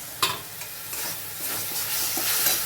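Soybean chunks fry in a pan with salt, turmeric and sauces for chilli soyabean, giving a steady sizzle broken by a few close clattering stirs and scrapes, with no talking.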